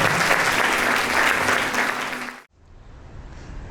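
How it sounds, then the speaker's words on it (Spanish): Church congregation applause, a full even wash of clapping that cuts off abruptly near the end, leaving only faint room noise. "Le damos un aplauso a Dios."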